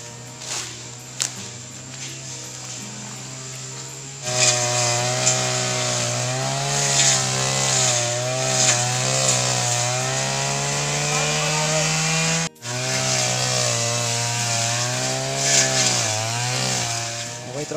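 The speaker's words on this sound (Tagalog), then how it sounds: "Ayan, kanyang minamower." Gas-powered grass mower cutting overgrown grass on an open lot: a loud, steady high-revving engine drone starts a few seconds in and holds continuously, with a brief dip near the end.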